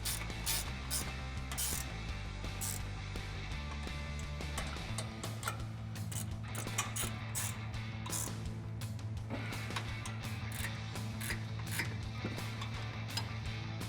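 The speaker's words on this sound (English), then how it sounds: "you can tighten up the nuts on the top of your new strut" A ratchet tightens nuts and a bolt on a new Fox Race Series 3.0 front coil-over internal bypass shock strut for a 2010-2014 Ford Raptor, giving rapid continuous clicking close by with steady mechanical whirring underneath.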